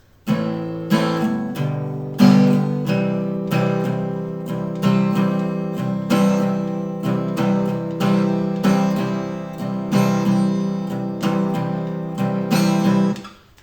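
An acoustic guitar strums the end of the chorus of a song in rhythmic down-up chord strokes, loud and close, alone with no voice.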